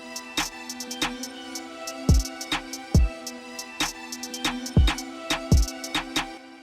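A full drill beat rolls along at a steady tempo, with punchy kicks and sliding 808 bass hits, crisp snares, and rapid ticking hi-hats in bursts and rolls. It plays loud and alone, with no voices.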